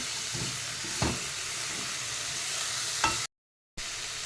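Tomatoes frying in a pan give a steady, close sizzle, with a few sharp clinks of a spoon stirring against the pan and a short silent gap near the end.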